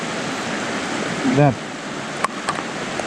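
A river in winter rushes hard past a fly-fishing spot, a steady broadband roar of flowing water with a brief voice over it and a couple of faint clicks.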